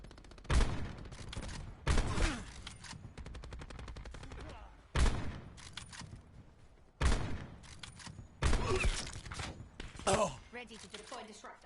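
Sniper rifle fire in Call of Duty Black Ops 4: several loud, sharp single shots spaced a couple of seconds apart, each trailing off into echo and bolt-cycling clatter, with game ambience between.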